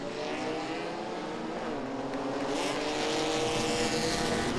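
Pro-Six race cars racing at Langley Speedway, a dense roar of several engines running together, with pitches rising and shifting as the pack passes close by.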